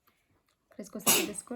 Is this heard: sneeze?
yes